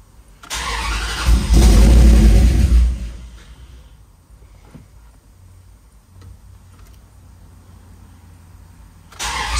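A car engine cranks and catches with a loud burst of revving that lasts a couple of seconds, then settles into a quieter, steady idle with faint ticking.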